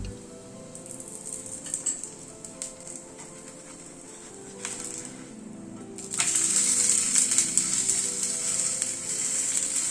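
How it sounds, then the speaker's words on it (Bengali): Flatbread frying in oil in a pan and pressed down with a spatula gives off a steady, close sizzle that swells noticeably louder partway through, with a few faint clinks. "একটু চেপে চেপে ওই পিঠটাকে ভেজে নিতে হবে।"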